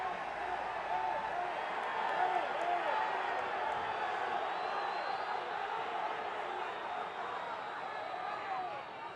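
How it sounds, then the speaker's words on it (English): A football crowd at a Gold Cup qualifier between Guatemala and El Salvador roars and yells in a dense, sustained wash of noise, appealing for a yellow card after a touchline foul, with commentary talk running over it. "Crowd yelling for a yellow against Jefferson Valladares."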